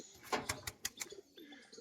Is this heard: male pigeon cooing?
yes